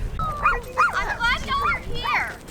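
A dog gives a string of short, high yips and barks close by, several quick bursts in a row, while people talk nearby.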